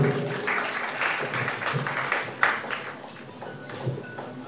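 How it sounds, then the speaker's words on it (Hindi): An audience claps at an award ceremony, a dense patter of applause that rises and then gradually thins, with a few sharper claps standing out near the end. "जोरदार ताली बजा दें"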